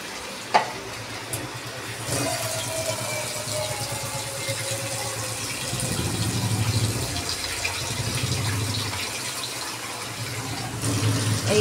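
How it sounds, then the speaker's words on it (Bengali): Water pours into a pan of katla fish curry on the stove, a steady splashing and hissing over low sizzling that swells midway, with no talking. "এই এতটা জল দিলাম, দিয়ে ঝোল করছি মাছে।"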